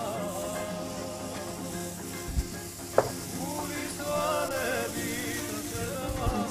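Food frying in a hot grill pan, with a continuous sizzle and hiss plus a few clinks and scrapes of stirring, close and moderately loud.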